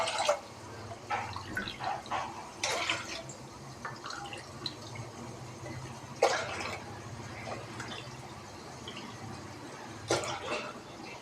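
Water poured into a pot for biryani rice in soft, intermittent splashes and trickles, quiet and close, with faint drips between pours.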